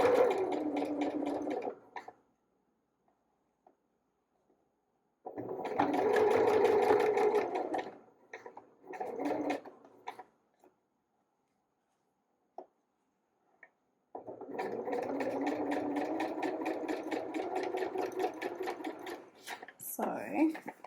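Sewing machine stitching cotton lycra cami binding with a twin needle, running in several whirring bursts of a few seconds each with quiet pauses between.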